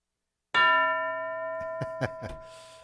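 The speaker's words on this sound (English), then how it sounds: "Hypocrisy bell there, folks." A single bell strike rings out with a sustained, slowly decaying metallic tone, followed by a few soft knocks near the end, alone with no talking.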